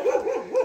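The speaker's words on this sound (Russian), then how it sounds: "Собаки гавкают." Dogs on the rural outskirts of Odessa, along a dirt road near Rybachya Balka, let out a quick run of loud, yelping barks in two bursts, fairly close and with no one talking.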